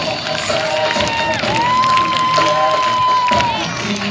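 Applause and cheering from children and adults at a school Republic Day celebration, loud crowd noise with whoops and shouts throughout, a sustained tone or sung note rising over the middle, and voices mixed in.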